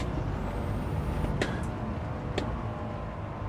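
A car engine in a racing video game time trial gives a steady, dense broadband drone throughout, broken by two brief sharp hissing clicks.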